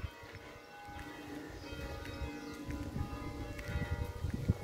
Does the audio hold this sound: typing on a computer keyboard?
no